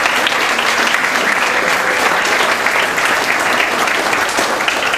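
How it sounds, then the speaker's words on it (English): Loud, dense applause fills a high school spring sports banquet as the underclassmen of the softball and baseball teams are honored, continuous clapping from a large crowd throughout. "give them a nice round of applause"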